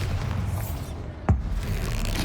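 The Bombarda blasting spell from Hogwarts Legacy, a single sharp boom of an explosion midway through, over background game ambience and music.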